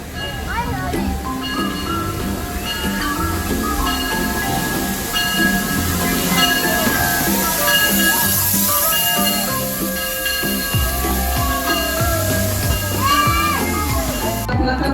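The Maria Fumaça steam locomotive pulls a tourist train between Tiradentes and São João del Rei, giving a loud continuous rumble of rolling wheels and hissing steam. Voices talk over the noise throughout.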